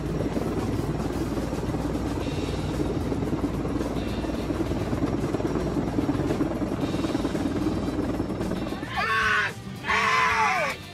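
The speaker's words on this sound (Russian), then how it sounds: "Вертолету с трудом удалось перевести массивный кондиционер." A helicopter carrying a massive air conditioner beats its rotor in a loud, steady drone. Near the end, sharp high squealing sweeps cut in over the engine.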